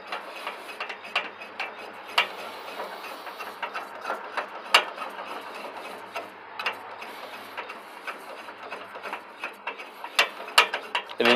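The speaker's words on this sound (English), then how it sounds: "when we take the jack back down, it'll just unflip itself" A Fastway Flip trailer jack foot is cranked down, a continuous close ratcheting with uneven clicks and small mechanical clunks, the gear ticking speeding up and slowing as the handle turns.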